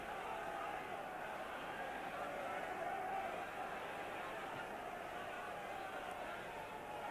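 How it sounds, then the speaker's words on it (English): Steady crowd din fills a rugby stadium at Twickenham during a 1988 Five Nations match between England and Wales, a constant roar with no breaks. "hearing above the din of the crowd."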